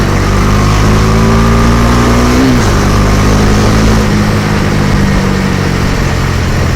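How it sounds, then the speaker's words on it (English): A Bajaj Dominar 250 motorcycle engine running under open throttle on an open road, a loud steady drone with a brief dip in pitch midway, heavily mixed with wind rush. "you can open up the throttle, and the Dominar 250 loves it"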